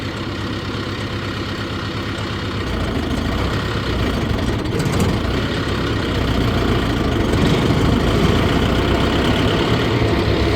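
A 2016 Bandit 200UC wood chipper's engine runs steadily nearby with the PTO engaged, its low drone growing slightly louder and rougher partway through as the load changes.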